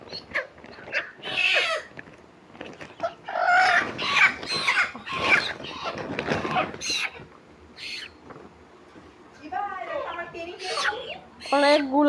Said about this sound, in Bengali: আমার বর আজকে মুরগি কিনে নিয়ে আসলো জবাই করার জন্য।